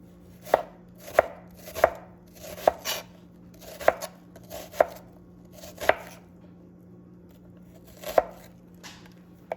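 Knife dicing a vegetable on a cutting board, with about a dozen crisp, evenly spaced chops in a steady rhythm, close and clear with no talking.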